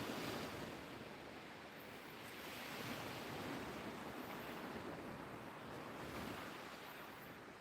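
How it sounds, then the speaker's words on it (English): Swelling sea surf rolls steadily onto the shore, a continuous broad wash of breaking waves with some wind noise and no voices. "This is the proper swelly sea that people love the sound of."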